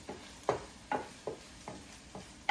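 Eggs for breakfast burritos cooking in a pan, broken up with a utensil: six or seven sharp, evenly spaced scrapes and taps against a faint sizzle, close and without talk.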